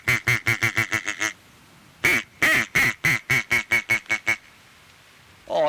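A handheld duck call worked to sound like a contented duck, rapid bursts of nasal quacking chatter in two runs, loud and close with a short pause between.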